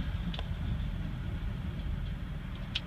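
A 1985 Mercedes 300D diesel drives along with a steady low rumble, its engine drone continuous and fairly loud throughout, with a couple of faint high clicks near the start and end.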